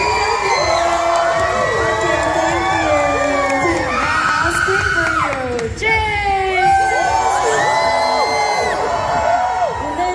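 A large concert crowd at a K-pop group's Orlando tour show screams and cheers nonstop, a dense wall of high, wavering voices, loud and close throughout.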